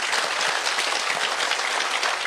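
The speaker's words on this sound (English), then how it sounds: "A resounding round of applause as he is being seated now" A dense, even round of applause from a large crowd, steady throughout with no voices on top.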